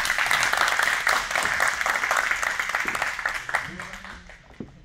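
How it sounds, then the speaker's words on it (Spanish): Spectators applaud at an Olympic wrestling event at CENARD, a sustained wash of clapping that slowly fades, with voices talking over it throughout. "Un aplauso para ellos"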